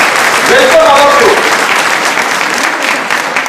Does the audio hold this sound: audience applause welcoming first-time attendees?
yes